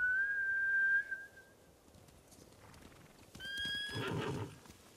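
Horses neigh in shrill, whistling whinnies in Ghost of Tsushima, one at the start and another near the end, with hooves clopping and shuffling in between.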